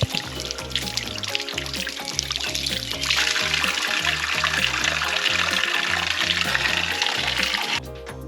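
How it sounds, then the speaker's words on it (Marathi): Spring water flows year-round from a stone cow-mouth spout in a temple courtyard in Dapoli, giving a continuous splashing trickle that gets fuller and louder partway through, then drops off near the end. "देवळाच्या आवारात दगडी गोमुख आहे तेथून बाराही महिने पाणी वाहत असते"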